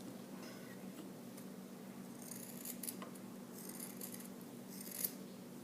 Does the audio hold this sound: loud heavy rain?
no